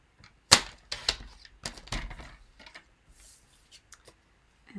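Card paper being cut to size for handmade card making, a series of sharp snips and crisp clicks spread unevenly over a few seconds, close and fairly quiet, with no talking.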